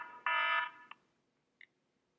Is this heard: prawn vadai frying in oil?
no